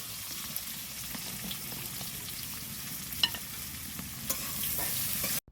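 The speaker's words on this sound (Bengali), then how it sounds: "এই দিক দিয়ে পেঁয়াজটাও ভাজতে বসিয়ে দিলাম।" Chopped onions frying in a pan, with a steady close sizzle and crackle throughout and a few sharp clicks of stirring, no voices.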